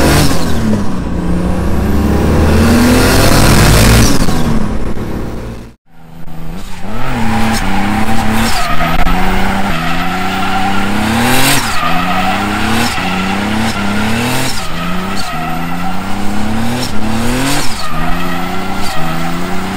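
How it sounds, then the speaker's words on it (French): A car on a test drive, fitted with an oil catch can and a freshly painted valve cover, revs hard again and again, its loud engine climbing and falling in pitch with some tire squeal, and no one speaks. "La voiture, elle marche fort, elle marche très fort même."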